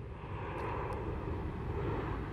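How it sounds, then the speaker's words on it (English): Propeller or jet aircraft drone steadily overhead, a broad continuous rumble that holds at a moderate level throughout, heard outdoors near a lawn being mowed. "I got planes flying above."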